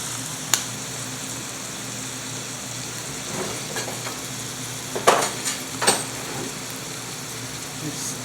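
Ground beef, 85% lean, is stirred by hand into a seasoned meatloaf mixture: a steady soft background with a handful of sharp, close scrapes and knocks scattered through it, loudest near the middle, with no voices.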